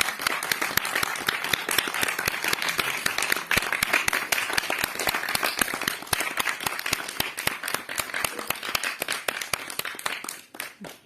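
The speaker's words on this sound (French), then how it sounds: "Il faut applaudir." An audience applauds loudly and steadily after a film screening, dense clapping filling the room for about ten seconds before tapering off at the end.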